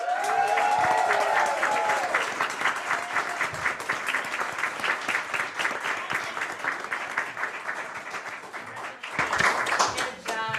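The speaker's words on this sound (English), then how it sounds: "Let's give them all a huge round of applause." An audience at a board meeting breaks into sustained applause, dense clapping that gradually thins out, with a brief voice at the start and a renewed burst of clapping near the end.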